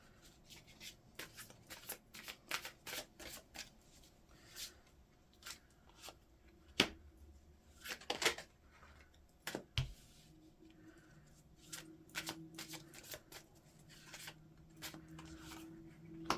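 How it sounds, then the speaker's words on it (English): Tarot cards are shuffled and laid down in a quiet room, with repeated soft riffling, flicks and taps close by, under no talk. "think of your question while I lay the cards down"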